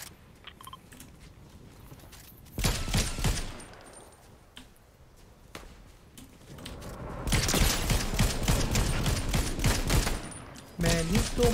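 Rapid bursts of automatic gunfire in a Fortnite match, with two loud sustained volleys and quieter scattered shots between them, set against faint game background.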